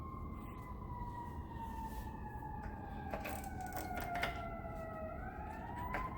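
Ambulance sirens wail along a Chicago city street, the long falling and rising tones carrying steadily over a constant rumble of traffic, with a few sharp clanks from nearby.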